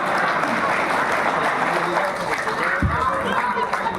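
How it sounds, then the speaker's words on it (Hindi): Audience applause at a poetry mushaira, a dense wash of clapping that runs steadily under a murmuring crowd, with a brief low thump near the end. "जरा ताली बजाइएगा।"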